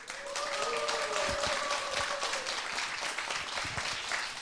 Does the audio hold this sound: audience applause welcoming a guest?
yes